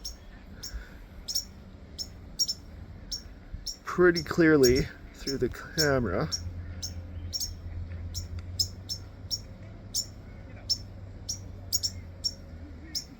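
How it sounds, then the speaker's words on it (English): White-crowned sparrows give sharp, repeated chip calls at a steady rhythm throughout, fairly close and clear, while a person speaks briefly partway through. "these are white-crowned sparrows"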